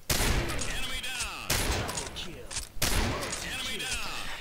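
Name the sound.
M24A3 Woodland sniper rifle shots, video game Combat Arms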